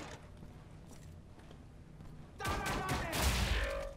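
Gunfire in the shooter Wolfenstein: The New Order starts after a quiet stretch, a sudden dense burst of loud shots and clattering impacts that lasts to the end.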